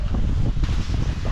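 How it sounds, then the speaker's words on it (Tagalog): Strong wind buffets the microphone at an outdoor cleaning and painting site, a loud, continuous roaring rush with no voices. "Lakas ng hangin."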